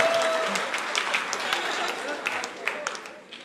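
A church congregation applauding at a Sunday service, a steady wash of many hands clapping through the whole stretch and fading near the end.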